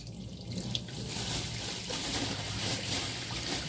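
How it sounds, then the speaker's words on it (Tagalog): Tap water runs steadily from a faucet into a cooking pot of stuck, hardened rice, a continuous close splashing rush that barely changes throughout. "Lalagyan ko siya ng tubig para lumambot."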